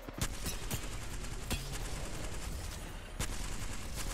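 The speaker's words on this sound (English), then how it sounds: "We need to shoot the Valk." Rapid gunfire fills an Apex Legends match, with loud, dense bursts and sharp individual shots cracking over a continuous din for several seconds.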